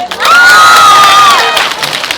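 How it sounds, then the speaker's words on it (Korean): A festival crowd roars with loud cheering and high shouts, a sustained near burst of voices with one long rising whoop over it, lasting about two seconds. "박수 한번 보내주세요."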